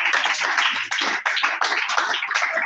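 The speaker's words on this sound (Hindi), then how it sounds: "एक बार जोरदार ताली" Hearty applause from a classroom audience, dense continuous clapping that stays loud and steady from start to finish with no talk over it.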